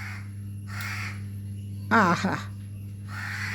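A crow caws once in a short harsh burst midway, clear and fairly close over a steady low hum, with brief human exclamations around it.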